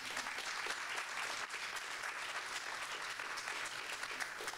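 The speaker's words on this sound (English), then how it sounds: "thank you for that encouragement and that applause" Audience applause at a livestreamed festival event, a dense, steady clatter of many hands clapping at moderate distance for the whole stretch, with no voices over it.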